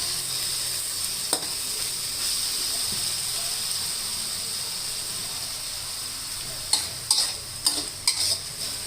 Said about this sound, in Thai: แล้วก็ผัดลงไปก่อนนะคะนี่ค่ะ